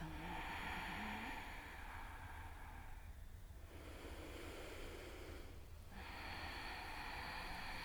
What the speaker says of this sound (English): build your inner fire with your Ujjayi breath